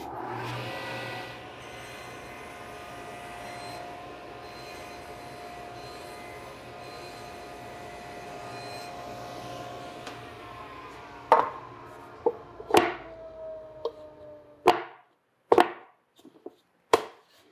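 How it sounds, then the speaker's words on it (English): Plastic organizer boxes are shaved down. A steady humming whir runs for about ten seconds, then gives way to a series of sharp, loud knocks and clacks at irregular intervals. "So I just need to shave just a little bit off of these."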